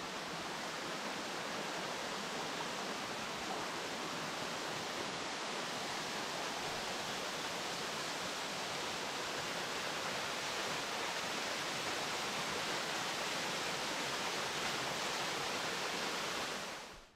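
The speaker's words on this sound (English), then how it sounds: "We go from a waterfall." Waterfall on a hiking trail along the Fundy coast, a loud, steady broadband rush of falling water that fills the whole stretch without a break before cutting off at the end.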